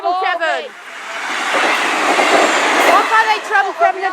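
A Class 158 diesel train rushes past the Radway Green level crossing in Cheshire, a loud, close roar of engine and wheels that swells and then fades, with people talking excitedly before and after it passes.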